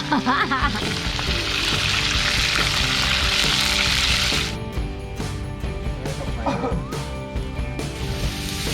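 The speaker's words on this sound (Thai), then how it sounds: "เดี๋ยวเราจะเอาลงไปทอดก่อนนะคะทุกคน" Loud, hissing sizzle of a whole fish frying in hot oil in a leaking wok, strongest at first then easing, with voices talking over it.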